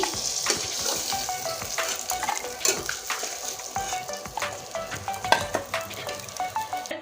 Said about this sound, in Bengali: যখন একদম পুরো লাল করে ভেজে নিয়েছি